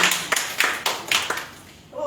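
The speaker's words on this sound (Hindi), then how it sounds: "ताली बजाओ।" Several sharp hand claps ring out in an irregular burst at a daytime workshop, fairly close and loud, then fade into quiet.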